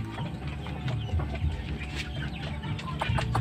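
Hen clucking repeatedly at close range, with other chickens and fowl mixed into a busy farmyard background and no talk.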